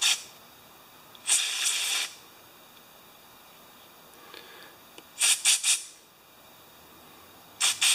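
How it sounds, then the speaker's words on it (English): Carb cleaner sprayed into the carburetor of a newer Briggs lawn mower that won't start: three separate hissing aerosol bursts, each a second or less, the middle one stuttering in quick pulses, close and fairly loud against a quiet background. "You don't have to have carb cleaner, but it really makes a difference."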